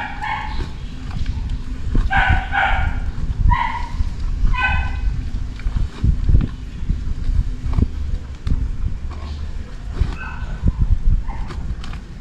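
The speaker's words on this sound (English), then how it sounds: "Sounds like the neighbor's got a new dog" A neighbor's tied-up dog barking in bursts of several high yips and woofs, moderately distant, over outdoor digging and scraping noises.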